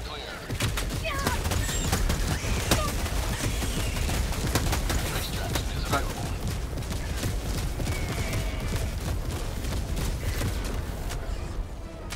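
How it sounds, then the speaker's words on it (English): Orbital barrage from Helldivers 2 pounding the battlefield, a dense, continuous roll of blasts and crackling impacts that stays loud throughout, with voices heard faintly now and then. "Orbital barrage incoming. Stand clear."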